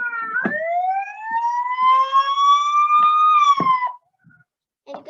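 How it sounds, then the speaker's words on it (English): A phone safety app plays a false police siren: a loud, close electronic wail that sweeps steadily upward for about three and a half seconds, then cuts off, followed by a couple of faint clicks. "And this is for the false police siren."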